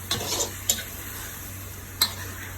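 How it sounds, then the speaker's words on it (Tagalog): Chicken, carrots and potatoes stirred in a sizzling pot for estopao caldereta, faint steady sizzle with a few soft scraping clinks of a utensil against the pot, no talking. "halu-haluin na natin yung carrots ng may patatas na siya with the chicken"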